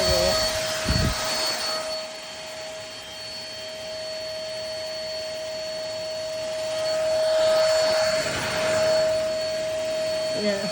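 Tower VL25 corded pet stick vacuum cleaner running with its brush nozzle, a steady close whine and airy roar with a sharp tonal hum, swelling slightly as it moves over the floor.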